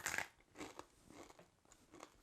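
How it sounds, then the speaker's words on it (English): Crisp air-fried chickpeas crunch between the teeth in several close, distinct bites, each a sharp brittle crackle spaced irregularly and fairly quiet overall. "the canned ones kind of have a more delicate crunch"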